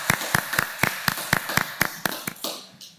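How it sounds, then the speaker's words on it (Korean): Church congregation clapping together for members celebrating July birthdays during a Sunday service, heard as a sparse run of about a dozen distinct, evenly spaced claps that dissolve into softer scattered clapping at the end. "우리 7월 생일을 맞이한 모든 성도들을 생일에 축하하면서 한번 박수를 축하해 주시면 고맙겠습니다."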